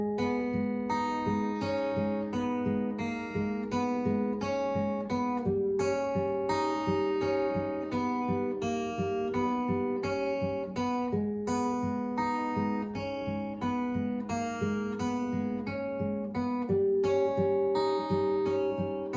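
A guitar plays the bridge of a song with a melody layered on top, fingerpicked with thumb and index finger, producing a dense, continuous stream of bright notes at a steady tempo, close and alone.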